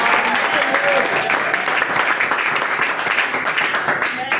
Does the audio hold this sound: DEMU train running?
no